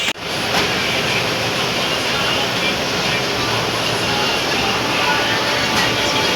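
Inside a Coimbatore–Nagercoil express train pulling away slowly, a steady broad rumble and rushing noise holds evenly from start to finish, with no voices on top.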